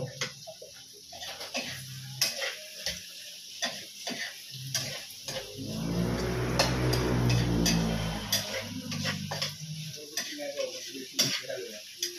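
A spoon scraping and clinking against a pan while food is stirred during home cooking, with a steady sizzle swelling in the middle and intermittent ticking taps throughout.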